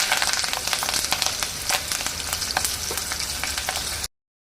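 Urad dal, chana dal and curry leaves fry in hot oil with a dense, crackling sizzle and scattered pops, loud and close, stopping abruptly into silence near the end.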